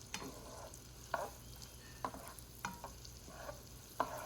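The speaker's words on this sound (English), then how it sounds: "Let the butter melt" Unsalted butter melting in a pan gives a soft, quiet sizzle broken by a few sharp clicks and light spatula taps at irregular intervals.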